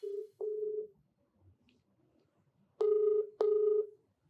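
A phone line's ringback tone during a call: a single steady tone, then two louder repeated rings with short gaps, clean and close.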